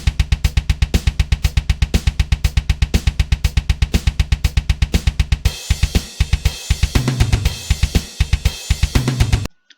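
A heavy metal drum beat built in BandLab pounds a fast, steady kick pattern with crisp hits, then shifts into a crashing fill with cymbals before cutting off abruptly.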